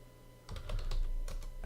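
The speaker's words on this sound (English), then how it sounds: "Typing here." Rapid keystrokes clatter on a computer keyboard in a short, close burst of about a second, with no talking over them.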